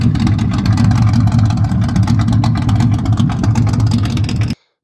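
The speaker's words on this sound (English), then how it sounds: "I'm going to throw a clip of this car running." A 1968 Chevrolet Bel Air's engine idles steadily and loudly up close, a continuous low rumble with a faint rhythmic pulse, running alone for several seconds before cutting off abruptly.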